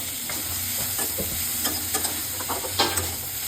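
Chicken hits a hot pan for a stir-fry with black pepper and carrot, a loud, close hiss with quick clinks and scrapes from stirring running throughout.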